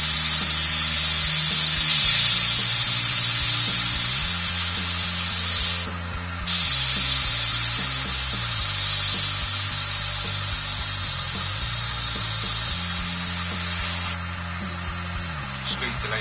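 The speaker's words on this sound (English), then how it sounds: "Speed the lathe up a bit more." Airbrush hissing steadily close by while a sycamore platter spins on a wood lathe, with a low motor hum that steps up and down in speed; the spray cuts out briefly twice.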